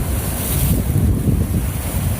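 Rough Caribbean Sea surf at a wild beach near Cienfuegos, Cuba, a constant loud rush of waves mixed with heavy wind buffeting the microphone.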